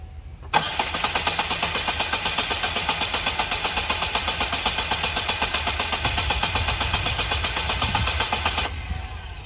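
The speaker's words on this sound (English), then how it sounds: "I'm gonna go ahead and move inside the vehicle and crank it over." A Saturn Vue engine with a flashing check engine light cranks briefly, then catches and runs with an even, rhythmic chugging idle for several seconds before cutting off.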